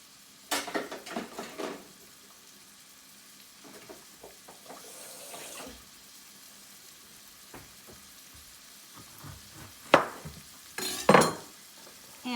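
Chicken tetrazzini ingredients sauté in a pan, a soft steady sizzle running underneath close kitchen clatter, stirring and a few sharp knocks, with a brief burst of running water near the end and no talking.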